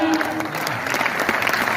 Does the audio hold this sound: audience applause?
yes